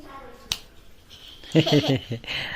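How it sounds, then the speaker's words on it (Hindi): A single sharp finger snap rings out close by in a home kitchen while food cooks, followed by people talking nearby. "ऐसी चुटकी बजाना आता है?"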